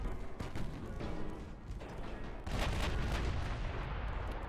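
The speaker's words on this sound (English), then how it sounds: "Massive hits from both battleships." Heavy battleship gunfire and shell hits rumble through a naval battle in Ultimate Admiral Dreadnoughts, a dense, continuous roar of booms that swells louder in the second half, with no talking.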